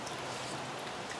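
Rain falling on a cold, wet March day, heard as a steady, faint wash of soft patter with no voices.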